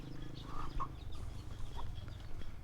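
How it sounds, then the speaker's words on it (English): Chickens in a village eating leftover rice, clucking softly in a few short calls over a low background hum, fairly faint and without talk. "A bunch of chickens eating some leftover rice."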